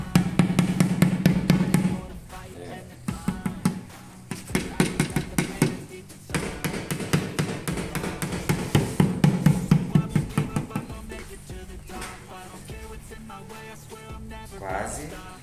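Rubber mallet striking a rusty cast-iron plate from a wood-burning stove, a series of dull thumps in uneven clusters, close and fairly loud, with some background sound between the blows.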